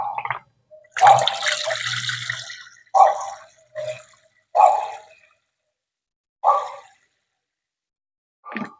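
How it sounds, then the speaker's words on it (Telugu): Water is added to homemade liquid plant fertilizer made from peels, heard as a series of separate close splashes and gurgles with silent pauses between them. "వాటర్ కలుపుకోవాలి"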